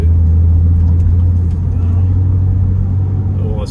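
A Porsche 997 Carrera's engine drones in a low, steady rumble from inside the cabin while driving, holding an even note throughout with no revving.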